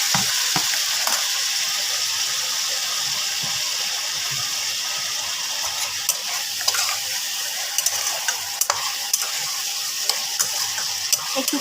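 Vegetables coated in a spiced batter of cumin, coriander, turmeric and salt frying for a thin rui fish curry: a steady hissing sizzle with scattered clicks and scrapes of stirring.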